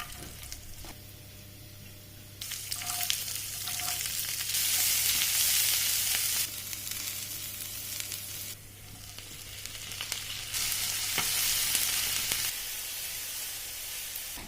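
Cumin seeds, almonds, ginger, a large onion and tomatoes fry in a pan. The sizzle is steady and swells in broad waves as the pan is stirred, with no talking.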